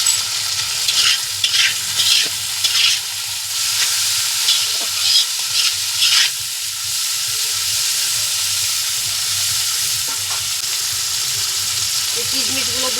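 Peas and salt stir-fried in a hot pan for party-style fried rice, a steady loud sizzle with bursts of scraping stirring in the first half, settling into continuous frying hiss.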